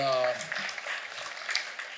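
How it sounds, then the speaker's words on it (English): An audience at a college opticianry program's 50th anniversary celebration breaks into applause, with a voice at the very start and scattered clapping for the rest of the moment. "So I want to give them a round of applause."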